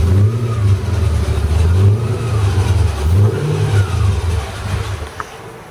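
An engine revs up and down repeatedly as the gas pedal is pressed, a loud, steady mid-pitched drone rising and falling in waves, close by with no talking.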